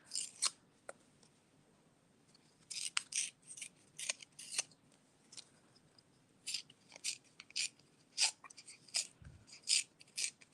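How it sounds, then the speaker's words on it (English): Paper torn carefully by hand around its edge while card-making, heard as a series of short, crisp ripping bursts in an irregular rhythm, close and fairly quiet against a hushed background. "I'm going to just tear around carefully"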